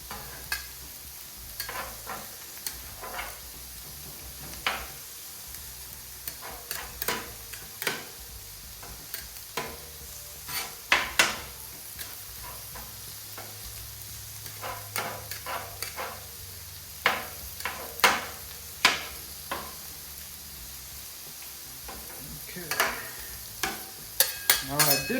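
Thinly sliced beef sizzles on a Camp Chef flat top griddle for a Philly cheesesteak, a constant close hiss broken by frequent sharp clicks and scrapes of a spatula working the meat.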